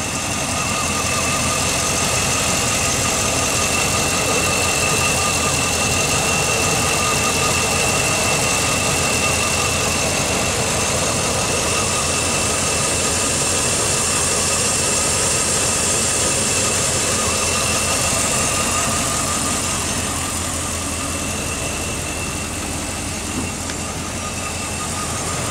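A running vehicle engine fitted with hydrogen technology holds a steady, loud, smooth drone with a constant low hum and a faint high whine throughout, with no speech.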